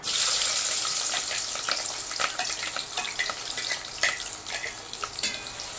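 Cloves, cinnamon, onion and green chillies frying in a pan, a loud, close hiss of sizzling oil that eases slightly, broken by the light scraping taps of stirring.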